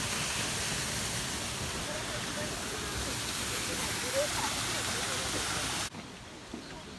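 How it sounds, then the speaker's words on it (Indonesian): Small waterfall on a forest stream in Japan, a steady broadband rush of falling water close by that cuts off abruptly near the end, leaving quieter flowing water. "air terjun kecil"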